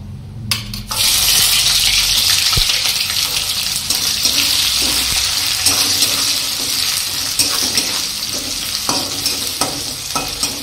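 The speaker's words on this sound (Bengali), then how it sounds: "দেখতে পাচ্ছ দারচিনি, এলাচ, কি জোরে জোরে ফাটছে যে।" Whole spices, cinnamon and cardamom, crackle in hot refined oil for chicken pulao: a constant close sizzle with scattered sharp pops and crackles throughout.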